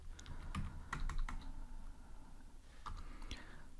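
Keys click on a computer keyboard in short irregular bursts with pauses between them, quiet and close, while code for an Android SQL database is typed.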